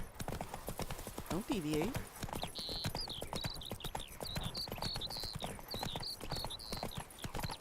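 Geralt's horse Roach gallops in The Witcher 3, a fast, loud train of hoof thuds running throughout, with a brief whinny and talking voices over the hoofbeats.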